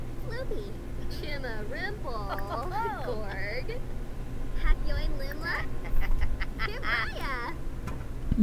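A Sims 4 character quacks like a duck while telling a duck joke, a series of nasal, warbling vocal quacks over steady game background hum, with some speech-like chatter.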